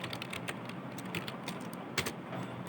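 Rapid keystrokes on a computer keyboard while HTML code is typed, a steady run of close, crisp clicks with a slightly louder tap near the end, no voices.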